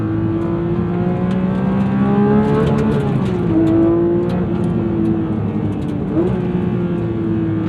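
A 2026 Porsche 911 GT3 992.2 engine revs hard toward 9,000 RPM. The loud, continuous wail rises and falls in pitch through several pulls, close and without any talk.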